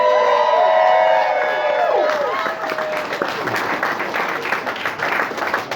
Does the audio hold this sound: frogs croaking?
no